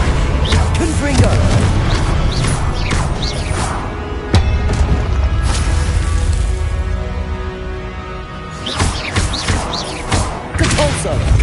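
Hogwarts Legacy combat with Confringo blasts: several heavy thuds and booming impacts with whooshing bursts, loud and close, amid continuous battle noise and a spoken voice.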